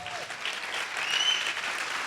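A church congregation bursting into loud, dense applause, a steady wash of clapping that swells slightly toward the middle, with faint cheering above it.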